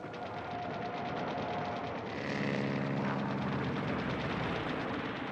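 Japanese Zero fighter planes strafing at Pearl Harbor: a steady aircraft engine roar with dense rapid machine-gun bursts, swelling louder midway through, no voices.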